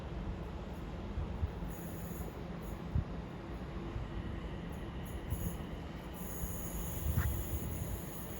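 A train passing at Watford Junction station on the West Coast Main Line: a steady rumbling roll with faint high squeals and occasional wheel clicks, continuous and fairly close, with no talk.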